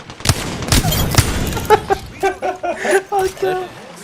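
Gunfire in the video game Apex Legends, a few quick bursts and single shots with ringing tails, mixed under excited German-speaking players talking over the action.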